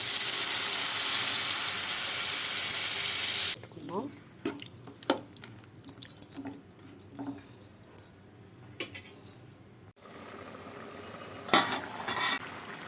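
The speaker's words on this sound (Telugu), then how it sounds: "ఇప్పుడు వాటర్ పోసుకుందాం" Water poured into a pan of sizzling country chicken curry gives a loud, steady rush of sizzle for about three seconds, then settles into quieter bubbling with scattered clinks of a spoon or utensil against the pan.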